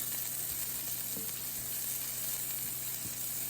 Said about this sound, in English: now I'm gonna add my green pepper. We're gonna saute that real quick